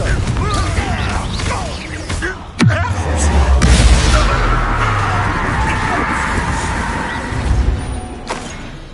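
A Confringo fire spell detonates in Hogwarts Legacy with a sudden loud blast, followed by a roaring, crackling burn that fades out, heard alongside speech and other game noise.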